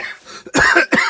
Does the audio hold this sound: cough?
yes